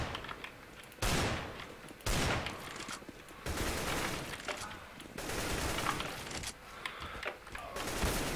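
Repeated heavy gunfire from a sniper rifle in a video game, loud bursts roughly every second that each ring out in a long, dense tail, one overlapping the next, close and dominant.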